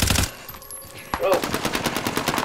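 Video game machine-gun fire rattles in quick bursts, a short volley at the start, a pause, then a sustained rapid burst of close, loud gunfire.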